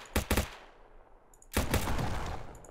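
Rapid bursts of video game gunfire from a weapon that kills in one or two shots: two quick loud shots, a short pause, then a longer sustained crack of fire, close and loud with no talking.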